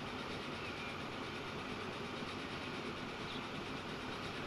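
Train running in the video game Transport Fever 2, set on a tropical map, giving a steady rolling rumble with faint clickety-clack, continuous and even with no voices.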